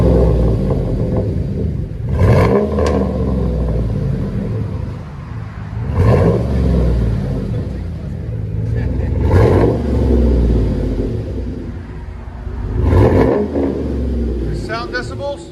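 A Chevy Silverado pickup's engine, fitted with catalytic converters, revs heard from inside the cab: four loud rising roars spaced a few seconds apart over a low idle rumble, with someone talking between them.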